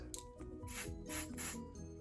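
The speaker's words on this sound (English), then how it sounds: "And then I sprayed a little bit of the light." An airbrush sprays liquid makeup foundation in soft, close hissing bursts, three brief puffs in a row over a faint background hum, with nobody speaking.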